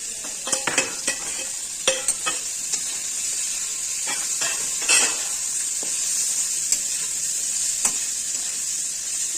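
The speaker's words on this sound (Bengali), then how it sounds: "এইভাবে আস্তে আস্তে করে ভাজতে হবে, একদম লো ফ্লেমে" Moringa drumstick pieces with turmeric fry in oil on a low flame, a soft continuous sizzle broken by repeated scraping and clinking as a utensil stirs the pan close by.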